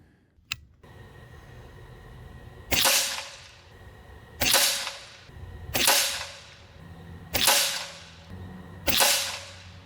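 Umarex Zelos air rifle, a clone of the FX Impact M4, firing pellets at about 915 feet per second in an outdoor accuracy test at 53 yards: one faint early snap, then five sharp cracks at regular intervals, each with a short fading tail.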